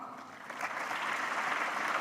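Audience clapping at a world cultural festival honoring an Eswatini and Lesotho Famo dance ensemble, a dense, steady burst of many hands that swells slightly louder toward the end, close and sustained throughout.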